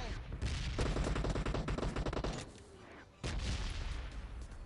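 Rapid gunfire spray in PUBG Mobile, dense bursts of automatic shots for about two seconds, a short quieter gap, then another loud volley close up.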